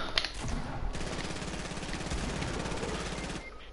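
Rapid, sustained SMG fire in a multiplayer shooter video game, a dense continuous burst of shots lasting several seconds, loud and close, with no talking over it.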